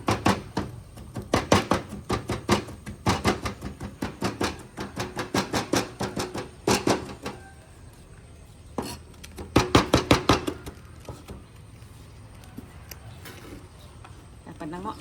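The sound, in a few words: crushing garlic for frying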